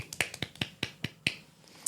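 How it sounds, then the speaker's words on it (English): A few people give a soft golf clap, light, sparse, evenly spaced claps, about nine crisp taps in under two seconds with quiet gaps between. "Oh, golf clap."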